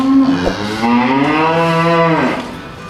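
Cattle in a farm pen on a large cattle farm in Surin, Thailand, give one long, loud, close moo that rises and then fades away.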